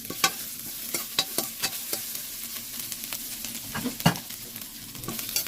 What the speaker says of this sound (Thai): วันนี้ก็จะผัด กระเพราหมูกรอบต่อเลยค่ะ